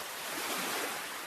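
Ocean waves wash onto a sandy shore in a steady, broad hiss of surf that swells slightly and holds, close and even, with no voices.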